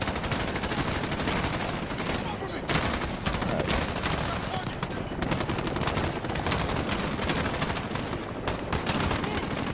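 Dense, continuous automatic gunfire fills a Call of Duty Modern Warfare firefight, rapid bursts overlapping with loud shots throughout, with a voice talking faintly underneath.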